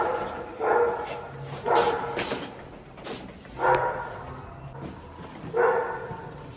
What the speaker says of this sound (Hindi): बगल वाले के कुत्ते।